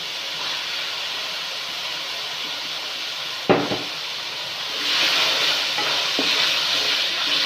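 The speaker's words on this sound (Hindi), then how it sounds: "और टमाटर के साथ इसकी भुनाई कर लेंगे।" Onions and tomatoes fry in a pan for mash daal, a steady close sizzle with a stirring scrape partway through, after which the hiss grows brighter, and no talk.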